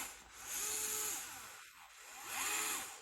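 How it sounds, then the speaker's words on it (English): A DeWalt gyroscopic power tool whirs faintly, its motor rising and falling in pitch in two separate bursts with a short pause between them, alone and without talk. "you guys asked me about this DeWalt. It's actually gyroscopic, so you press the button."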